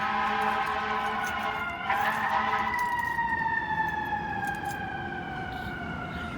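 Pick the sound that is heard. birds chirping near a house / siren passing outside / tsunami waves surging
siren passing outside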